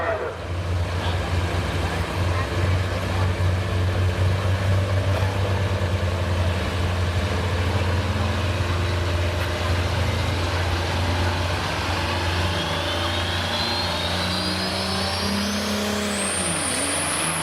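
A 20-inch class pulling tractor with a couple thousand horsepower roars steadily down the track at a tractor pull, a loud sustained engine drone that climbs in pitch toward the end, with a commentator talking over it.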